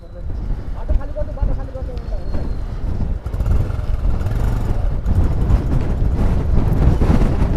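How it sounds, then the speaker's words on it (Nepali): Strong wind in Mustang, Nepal, between Lete and Kagbeni roars and buffets the microphone continuously, with a rumbling engine underneath and a brief voice near the start. "वाइल्डै ला हावा त"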